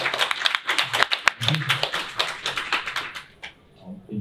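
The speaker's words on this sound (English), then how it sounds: "Have a very warm round of applause for Mr." A conference crowd at BSides Melbourne 2022 claps for a speaker in a brief burst of scattered, fairly close handclaps that dies away quickly.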